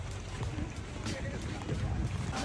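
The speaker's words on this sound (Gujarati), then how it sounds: "તો બોટમાં આવી ગયા છીએ" Motorboat ride on an island tour off Krabi, Thailand: a steady, loud rush of engine drone, wind buffeting and water spray continuing throughout, with voices talking faintly underneath.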